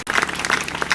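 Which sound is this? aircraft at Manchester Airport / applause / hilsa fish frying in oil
applause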